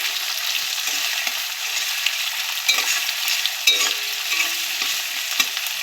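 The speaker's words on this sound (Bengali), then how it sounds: "এবার আমি পেঁয়াজটাকে ভালো করে ভেজে নেব।" Onions fry in a pan with a dense, continuous sizzle and crackle, nearby and fairly loud, with small pops and faint stirring scrapes.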